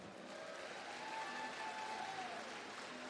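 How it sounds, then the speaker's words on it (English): Steady applause from a festival crowd at an outdoor entertainment stage, continuous clapping at an even level for a few seconds, with a faint whistle-like tone drifting above it. "Give them a round of applause."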